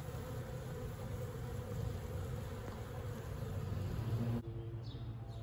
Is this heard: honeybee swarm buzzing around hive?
yes